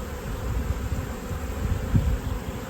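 Bees at a large open-air hive being removed make a steady low buzzing drone close by, with a slight rise in intensity partway through.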